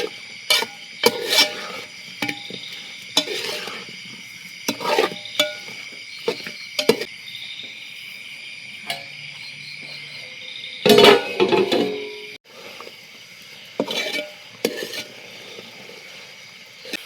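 Chicken chukka with fried onions sizzles in a pan while a spatula stirs and scrapes, a steady close hiss broken by irregular clinks and knocks of metal on metal, with no voices.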